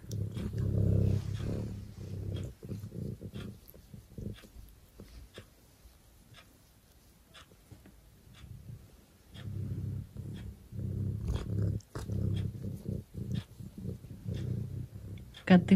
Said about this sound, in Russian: Кто из вас мурлычет?